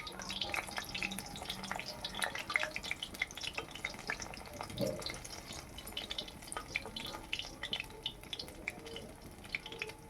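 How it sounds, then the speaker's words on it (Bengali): Chicken pakoras frying in hot oil, a soft, steady crackle and bubbling sizzle that stays fairly quiet and even throughout, with no talking. "এভাবে আমি বাকি পকোড়াগুলো ভেজে নেব"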